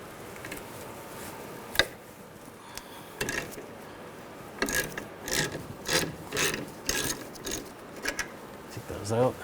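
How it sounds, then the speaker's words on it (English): A ratchet with a 12mm socket backs out bolts from the rear ABS wheel speed sensor bracket on a 2003-2008 Subaru Forester, giving close, crisp bursts of rapid clicking that repeat in short runs, with quieter scraping between them. "We're going to take these bolts out, use a 12mm socket."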